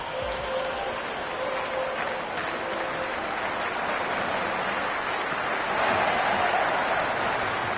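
A stadium crowd at a cricket match in Cricket 26 applauds and roars in a steady, loud wash that swells slightly toward the end.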